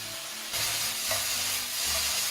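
Onions and vegetables with a pinch of pink Himalayan salt sizzle steadily in a pan for an Indian tofu casserole, while a utensil stirs and scrapes through them in short bursts.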